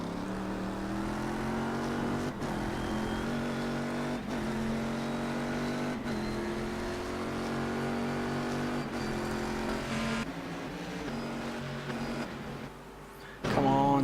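Race car engines in the iRacing sim game drone loudly and continuously, the pitch climbing through the gears and dropping at each shift, with a brief lull near the end before the engine note surges again.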